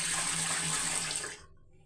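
Black urad dal is rinsed under running water in a kitchen, a steady close splashing stream that cuts off abruptly near the end.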